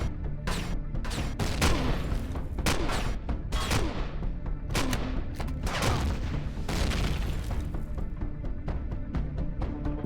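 Sentry guns fire rapid bursts of gunshots in Empyrion Galactic Survival, a dense, loud barrage of overlapping booms and cracks that continues without a break.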